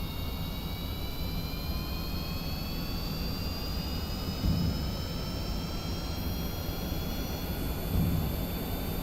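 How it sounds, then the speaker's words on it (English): A jet engine at max power in the video game Kerbal Space Program, a loud steady roar with a rising whine, continuous throughout with no talking. "max power on the engine."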